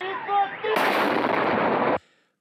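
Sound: artillery fire near a shopping mall in Novosibirsk

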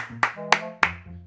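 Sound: hands clapping to praise a meerkat

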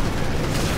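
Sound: grenade explosion in video game Call of Duty Modern Warfare 3

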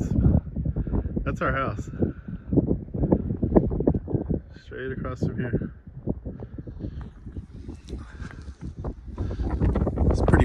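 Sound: wind

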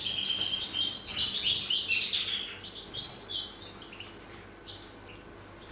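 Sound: birds chirping in an aviary

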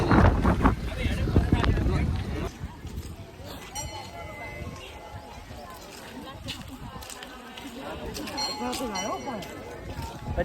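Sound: strong wind blowing

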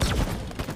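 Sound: gunshot in a video game

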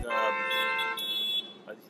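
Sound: beeping in New York street background

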